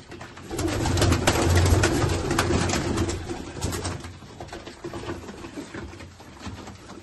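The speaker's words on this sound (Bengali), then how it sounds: "বন্ধুরা দেখো এখানে আন্ধ্রা পায়রাও আছে, মালবাই আছে, ম্যাড্রাসও আছে" Malbai, Andhra and Madras pigeons coo together close by, a loud, continuous, throbbing murmur of many birds that eases slightly toward the end.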